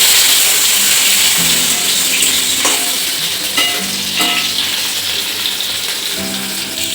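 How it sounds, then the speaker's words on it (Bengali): Raw banana pieces sautéing in oil with a little salt in a pan, a dense close sizzle with a few sharp stirring knocks and scrapes. "এরপর কাঁচা কলাটা কষে নেব"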